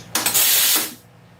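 The steam wand on a home coffee machine lets out a short burst of hiss after a click or two, a loud, close spray of steam lasting under a second before it is shut off.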